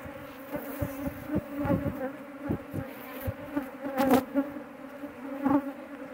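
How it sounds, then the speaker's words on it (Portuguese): Honeybees drone steadily around an open hive from a young split colony in an apiary, a dense close buzz with individual bees swelling louder as they pass near. "Não tem tanta abelha."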